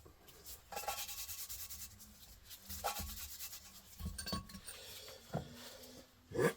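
Valves from a Volvo 1.8 engine are lapped by hand with a faint, gritty rubbing and scraping that comes in short strokes. Occasional light metallic clinks occur in a quiet workshop.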